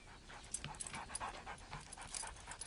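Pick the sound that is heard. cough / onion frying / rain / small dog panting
small dog panting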